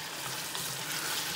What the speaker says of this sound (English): now the potatoes are really frying up really